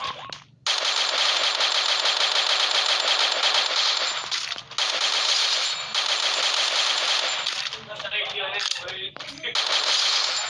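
Automatic gunfire in the video game Free Fire rattles almost without a break in long loud bursts, with short gaps and a quieter stretch of clinking near the end.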